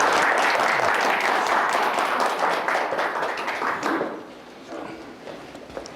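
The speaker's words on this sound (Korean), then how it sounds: "모두 큰 박수로 맞이해 주시기 바랍니다." An audience claps loudly and steadily to welcome a lecture speaker at a public history talk, the applause dense for about four seconds before thinning out and fading.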